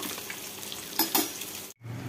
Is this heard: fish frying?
yes